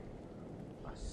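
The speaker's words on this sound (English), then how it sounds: "Listen to that thunder roar." In Star Wars: The Old Republic, a steady roar of thunder with a rain-like hiss fills a brief moment and stays dense and unbroken throughout.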